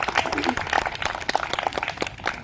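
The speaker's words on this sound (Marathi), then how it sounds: "आपण सर्वांनी एकदा आपल्यासाठी जोरदार टाळ्या वाजूया." Parents at a school sports festival clapping loudly, a dense, continuous crowd applause with mixed voices underneath.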